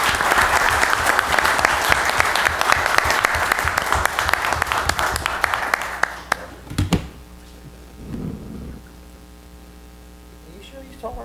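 Audience applause at a town council meeting: loud crisp clapping for about six seconds that stops abruptly, leaving a steady electrical hum, a few taps and faint voices in the room.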